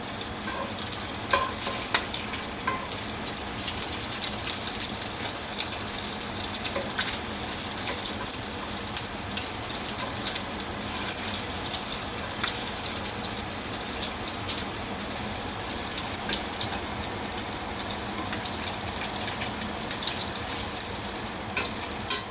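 Potatoes are scooped out of a very hot cast iron pan beside bacon, steady crackling sizzle with scattered scraping clicks throughout, close and even in level.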